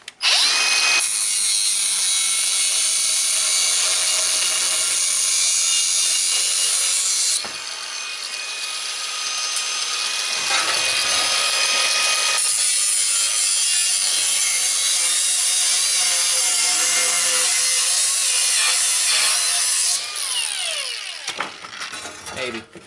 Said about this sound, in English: I'm just going to hit this with the grinder. I'm just going to cut this way and then that way, and that'll free it up.